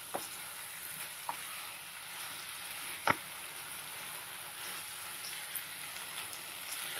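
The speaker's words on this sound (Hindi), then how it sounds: "जैसे हम लगातार ऐसे चलाते हुए तकरीबन एक मिनट तक अच्छे से फ्राई कर लेंगे" Okra (bhindi) fries in tomato masala with green coriander over a high flame, a steady faint sizzle with occasional sharp spatters and light clicks from stirring, no voices.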